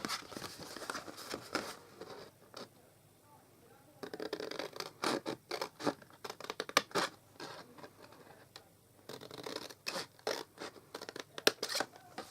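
Scissors cut squares off a sheet of card stock for a shaped greeting card, giving repeated crisp snipping and scraping bursts close by with short quiet gaps between them.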